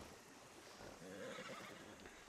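A horse neighs in Red Dead Redemption 2, a clear whinny rising after a second of quiet game ambience and lasting about a second before fading.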